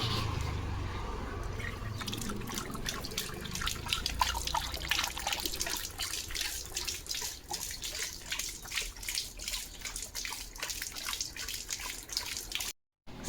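Rapid wet lapping of a German Shepherd drinking water, a steady run of quick splashy laps close by that carries on for several seconds.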